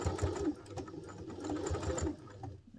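A sewing machine stitches a messenger satchel bag in short rhythmic bursts of rapid mechanical thumping, close and fairly quiet, pausing briefly between runs.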